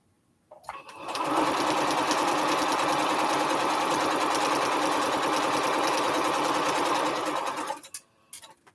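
A sewing machine stitches quilt strips together for a Triple Irish Chain quilt, whirring into a fast, steady mechanical chatter for about six seconds before slowing to a stop.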